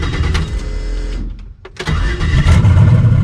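A turbocharged Chevelle Malibu with a new battery starts up, cranking briefly before the engine catches and settles into a loud, close idle.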